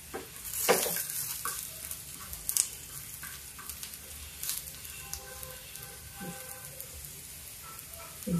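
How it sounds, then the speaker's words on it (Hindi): Asafoetida and cumin seeds hit hot oil for a dry cabbage dish, giving a steady close-up crackling sizzle with a sharp burst near the start, occasional stirring clinks and scrapes, and no talking. "ये देखिए मैंने हींग डाल दी है और जीरा डाल दिया थोड़ा इसी समय,"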